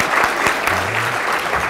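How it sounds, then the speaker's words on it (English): Brief burst of audience applause at an awards ceremony, a short stretch of dense clapping with a few sharper individual claps standing out and faint voices mixed underneath. "You please give Norio a round of applause"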